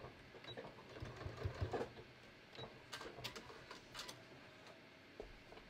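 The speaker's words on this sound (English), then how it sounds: "So I'm going to sew my side seam to my dot." A sewing machine stitches a side seam on a pair of shorts, a faint, quiet run of rapid mechanical ticking and whirring in short bursts, with no talking.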